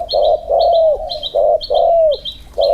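A dove-like bird gives close, loud cooing calls: about five rounded, repeated phrases in a steady rhythm, each with a soft higher overtone, with no speech.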